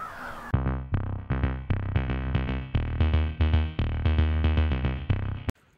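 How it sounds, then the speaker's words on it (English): Loud, harsh crow caws repeat in quick succession, a dozen or more rasping calls close by in Kentucky, overlapping in an excited chorus. "Listen to the crows."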